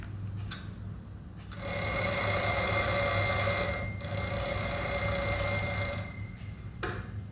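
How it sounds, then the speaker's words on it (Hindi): Old mechanical alarm clock ringing, a loud, close, rapid metallic bell clatter in two long bursts of a few seconds each with a short break between them, then a short final burst. "तो ये अलार्म क्लॉक भी क्या है, एक मशीन है"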